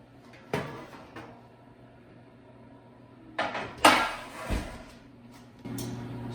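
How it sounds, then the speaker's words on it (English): A metal baking pan with melted shortening clanks and rattles as it is pulled out of an oven and set down, with a few sharp knocks and scrapes. "I'm about to get the pan out of the oven"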